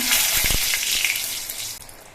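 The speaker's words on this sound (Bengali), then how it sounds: "এবার তেলের মধ্যে দিচ্ছি দুটো তেজপাতা দুটো শুকনো লঙ্কা" Loud, close sizzling of two bay leaves and two dried chillies dropped into hot oil, with a few sharp crackles at the start settling into steady frying hiss.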